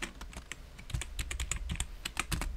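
Computer keyboard being typed on at a quick, uneven pace, a close run of crisp key clicks with no talking.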